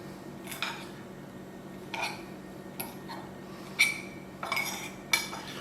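Fork breaking a falafel patty on a plate, with a series of light clinks and scrapes of metal against the plate, spaced irregularly and heard up close in a quiet room.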